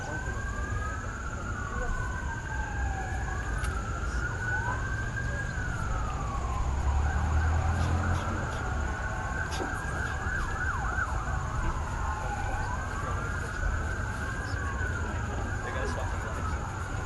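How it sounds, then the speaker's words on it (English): Emergency vehicle sirens wail continuously with repeated rising and falling sweeps, fairly close and loud, over outdoor traffic rumble at a leaders' meeting in Washington, with a voice heard faintly. "Sirens again."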